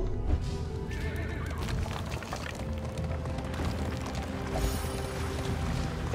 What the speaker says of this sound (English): Horses, you're going out of control here.